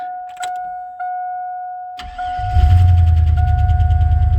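A car engine cranks with a whine and tonal hum, then catches around the midpoint and settles into a loud, steady rumbling idle after sitting unused since last summer, sounding rough and uneven.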